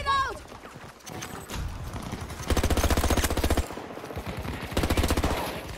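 Machine gun fire in a Battlefield video game, with sustained rapid bursts of automatic shots, loud and close, separated by short pauses, alongside other game sounds and a speaking voice.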